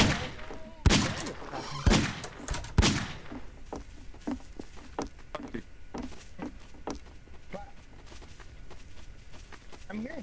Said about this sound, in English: I'm hearing shots, but I have no idea where they're coming from